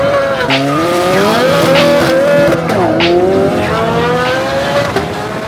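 A 670-horsepower Corvette accelerating hard and sliding, the engine note climbing and wavering while the tires squeal loudly in sustained bursts, close and dominant throughout.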